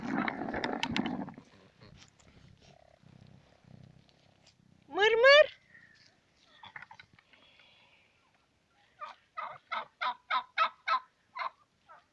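A cat meows once, a short rising cry, with soft talking nearby and a run of short rhythmic calls toward the end.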